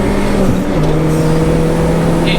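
A 300hp Mini Challenge race car driving on track, heard from inside as a loud, steady engine drone whose pitch dips and then settles into a sustained tone.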